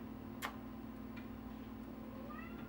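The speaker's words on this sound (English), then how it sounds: "So if you hear him meowing, that's him." A faint cat meow sounds near the end over a steady low hum, with a couple of soft clicks earlier.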